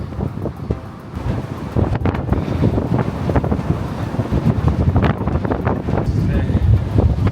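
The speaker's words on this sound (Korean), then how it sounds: "전망대에서 엄청난 바람 보고 있습니다." Strong wind at an observation deck on Dokdo island roars loudly and steadily across the microphone, gusting harder after the first couple of seconds.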